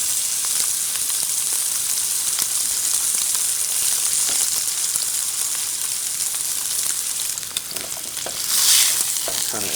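A steak sears in a hot pan with a steady, dense sizzle and crackle. The frying noise stays close and continuous throughout, with a brief swell of hiss near the end and no talking.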